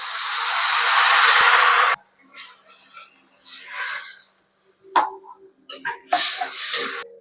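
A loud rush of hissing and sizzling as two tumblers of water hit a hot pan while making samiya upma, then softer intermittent sizzles and bubbling bursts.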